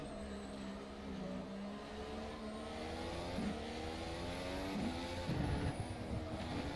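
A hybrid turbo Formula race car engine in the rFactor 2 sim racing game whines at high revs around Spa-Francorchamps, pitch rising and falling through gear changes, steady and continuous with a faint high squeal.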